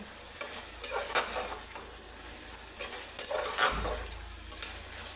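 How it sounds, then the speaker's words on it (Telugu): Mutton and potato curry fries on high flame, a low sizzle under intermittent scraping and stirring strokes of a spoon against the pan, close and moderately quiet with no voices. "ఇప్పుడు కొంచెం హై ఫ్లేమ్లో పెట్టుకొని ఫ్రై చేసుకోండి నీరు ఎగిరేదాకా బాగా ఫ్రై చేసుకోండి"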